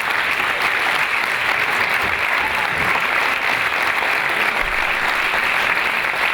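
Sustained audience applause for Agnès Jaoui at the Rencontres du 7ème art in Lausanne 2019, a loud, dense wash of many hands clapping that holds steady from start to finish with no voices over it.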